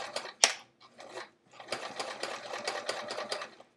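A home sewing machine stitches Velcro using top stitching thread, chunking along in a quick run of rapid mechanical clatter after a sharp click and a few short bursts, close and fairly quiet.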